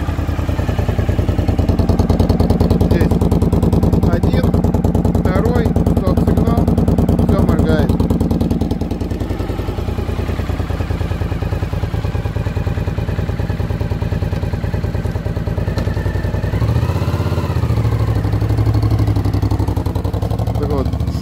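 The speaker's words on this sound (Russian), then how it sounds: "V-образный мотор с развалом цилиндров на 90 градусов" A Suzuki DL1000 V-Strom motorcycle with a 90-degree V-twin engine runs at a steady idle, a close, continuous low throb with mechanical clatter, while someone talks over it throughout.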